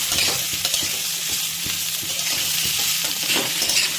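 Chopped onion fries over a high flame, giving a loud, steady sizzle with rhythmic scraping as it is stirred in the pan, with no voices.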